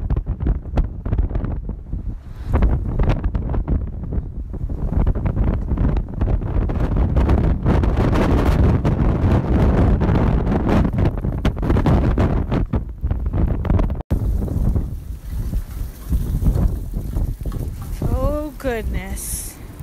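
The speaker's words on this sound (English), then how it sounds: "it's just been very windy" Strong wind buffets the microphone during an April snowfall, a loud continuous rumbling roar with gusts throughout, easing near the end as a person speaks over it.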